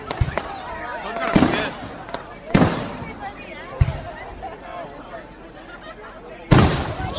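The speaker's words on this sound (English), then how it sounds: "These are probably the best fireworks I've ever seen in my life." Fireworks go off in a display, several loud sharp bursts scattered over a few seconds amid crackling and background noise, with people nearby reacting in speech.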